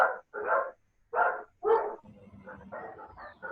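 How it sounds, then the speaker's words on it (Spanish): A small dog barks over an open microphone during an online class, several loud close barks in a quick irregular series followed by softer yips and muffled background sounds. "Un perrito ladrando."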